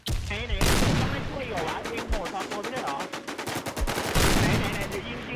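Sniper rifle gunshots in the video game Warz ring out as loud cracks, with rapid repeated bursts of shooting in the middle and a voice talking over the fire.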